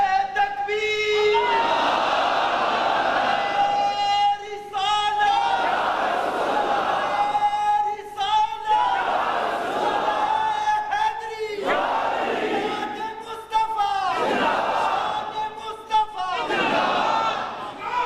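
A large crowd at a religious gathering for Eid Milad un-Nabi shouts slogans in unison, answering a leader's calls in several loud, rhythmic bursts separated by short pauses.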